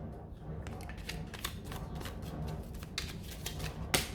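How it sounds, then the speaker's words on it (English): Tarot cards being shuffled by hand at a table: a steady run of soft, papery riffles and flicks across several seconds, close and clear, ending on a sharper snap as the deck is squared. "Okay, I'm going to shuffle your tarot cards."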